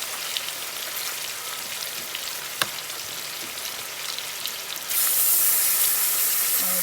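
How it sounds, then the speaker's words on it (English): Steak for pepper steak frying hard in a hot pan, giving a steady, loud, close sizzle that swells into a brighter, harsher hiss near the end, with no talking. "So all this is going to do right now is fry. We're going to fry it hard"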